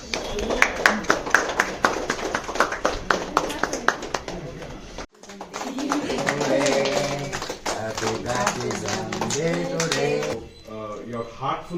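Guests clap at a baptism and naming ceremony, a quick steady run of close handclaps that gives way to mixed talking voices and murmuring in the room.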